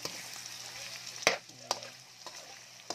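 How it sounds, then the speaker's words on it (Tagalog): Bamboo shoot stew ingredients with a little shrimp paste stirred in a pan over a low sizzle, with a few sharp utensil clacks and scrapes against the pan, close and fairly quiet. "So, haluin natin yung ating mga sahog."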